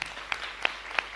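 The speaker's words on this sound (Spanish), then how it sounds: "un fuerte aplauso para el Señor" A brief burst of congregational applause for the Lord at a Catholic Mass during the novena to María Auxiliadora in a chapel, a soft wash of clapping from a gathered crowd with no talk over it.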